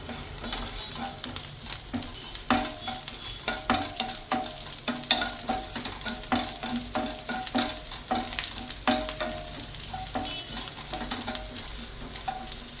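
Chopped garlic and ginger fry in a hot pan for dry chilli chicken, a steady close sizzle broken by repeated scraping stirs with a spoon in a regular rhythm, no voices.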